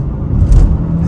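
2024 Hyundai Tucson Hybrid N-Line accelerating hard, a short, loud low rumble and whir of the engine that swells briefly mid-burst, with no talking.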